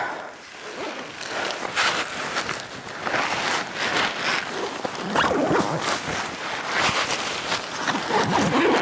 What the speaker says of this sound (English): zip that up so that I'm fully waterproof, fully contained